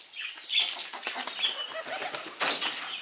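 Pigeons flapping their wings close by while chickens are being fed, a rapid run of wingbeat bursts with faint bird calls mixed in and no talking.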